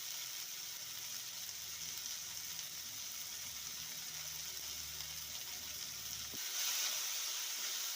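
Chopped onion and tomato with salt frying in hot oil for Maharashtrian harbhara usal, a continuous quiet sizzle that steadies and brightens into a hiss near the end, with no voices.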